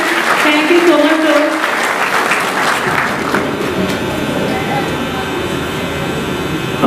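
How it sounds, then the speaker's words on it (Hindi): Loud, steady applause welcoming an honored guest at a ceremony held by an operation theatre technical staff association, a thick continuous roar of many clapping hands with a mechanical hum beneath, some talk early on. "जोरदार तालियों से इनका स्वागत कीजिए हुजूर।"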